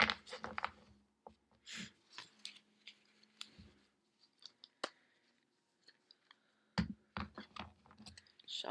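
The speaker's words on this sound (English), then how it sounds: "as I shuffle the cards" Oracle cards are shuffled by hand for a daily reading. The cards give soft, close riffling and tapping in quick, uneven bursts with brief gaps between them, and no one speaks.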